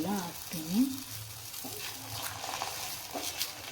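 A kadale bele holige flatbread sizzles in oil on a hot pan with a soft, continuous frying hiss, accompanied by scraping and stirring sounds, while a voice is briefly heard at the start.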